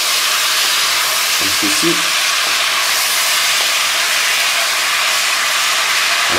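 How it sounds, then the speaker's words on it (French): Diced lardons sizzle and hiss steadily in a hot pan as they are turned over, a dense close frying noise running throughout, with a brief murmur of speech near the start. "On commence à retourner les petits lardons"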